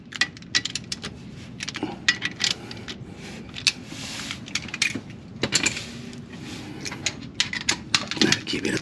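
Ratcheting torque wrench clicks while tightening bolts on a Nippon Racing K20 turbo engine build, a rapid run of sharp close mechanical clicks and ticks in irregular bursts throughout.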